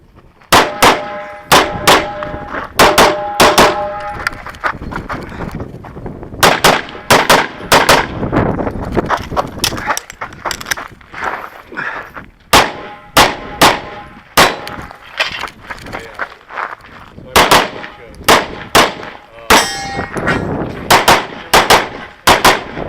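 Rapid strings of loud, close pistol shots from a PT Honcho shooting Open Major at a Boulder Rifle Club Level 1 match, fired in tight bursts with ringing metallic clangs mixed in and brief pauses between strings.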